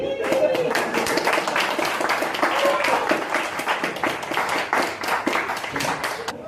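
An audience at a hypnosis show applauding and cheering, a dense continuous wash of many hands clapping that holds steady throughout, with voices mixed into the crowd noise.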